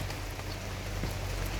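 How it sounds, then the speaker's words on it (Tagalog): Rain falls steadily on a garden of anthurium foliage plants, a dense, even patter that stays constant and fairly loud throughout, alone with no voices. "Ayan na naman ang ulan."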